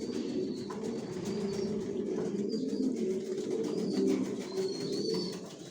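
Several Johnson line racer pigeons from an old bloodline coo steadily, a low continuous murmur of overlapping calls close by, with faint higher chirps now and then and no talking.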